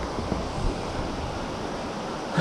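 A river rushes below a wobbly trail bridge in the Copper Ridge Trail and Tapto Lakes mountain area, a steady broadband roar of flowing water heard nearby with some wind buffeting and no talking.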